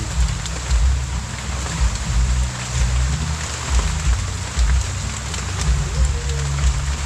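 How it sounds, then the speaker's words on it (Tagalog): Dense, steady rain pounding on surfaces during a typhoon in the Philippines, with a heavy low rumble of wind underneath throughout. "May bagyo po rito ngayon. Kaya po ganito kalakas ang ulan."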